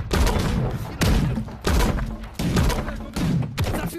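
Rapid cannon fire booms out in a sailing PvP video game: about six heavy, thudding bursts arrive roughly every half second to second, loud and close, each with a rumbling tail.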